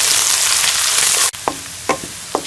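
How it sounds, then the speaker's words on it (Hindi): Garlic ginger paste frying with onions in a pan for an egg gravy, a dense close sizzle that drops suddenly, followed by a few sharp stirring scrapes over quieter frying. "लहसुन अदरक के पेस्ट को भी अच्छी तरह प्याज के साथ फ्राई कर लेंगे"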